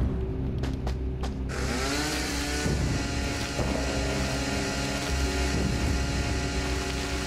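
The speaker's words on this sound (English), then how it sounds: "Let's get the chainsaw out." Chainsaw in the video game The Tomorrow Children, a few clicks and then a loud, steady buzzing drone that revs and dips slightly, continuous and close without talk.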